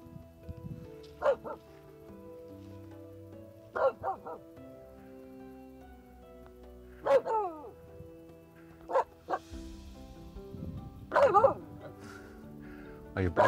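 A Finnish Spitz barks outdoors on open hills, giving short bursts of high yips and barks separated by pauses, fairly close and clear against a quiet background.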